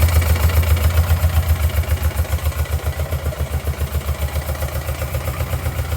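An engine running on only one cylinder idles close by with a loud, lumpy, uneven chugging pulse, each rough beat thumping heavily with a mechanical clatter on top.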